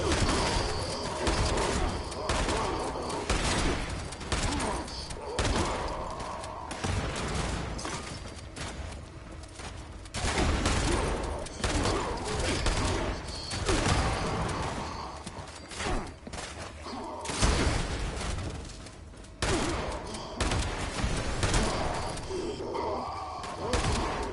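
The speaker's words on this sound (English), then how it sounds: "What are these guys shooting at?" Gunfire in the video game Fallout 76 comes as dense, near-continuous volleys and bursts, loud and chaotic throughout with crashes and brief lulls.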